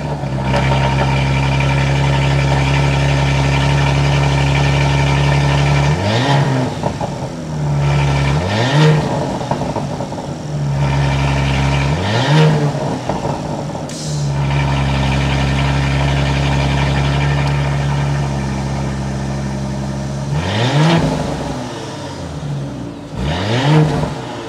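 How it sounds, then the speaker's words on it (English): A 2022 Porsche Cayenne with a twin-turbo V6 idles with a deep, steady exhaust drone, broken by several sharp throttle blips that rise and fall back to idle, heard close and loud with no talking. "start it up so we can hear that exhaust note."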